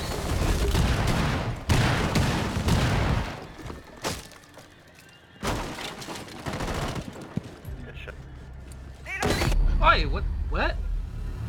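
Bursts of automatic gunfire from a gun in Rainbow Six Siege, loud and close, come in several separate volleys with short gaps between them, and voices are heard in the quieter stretches.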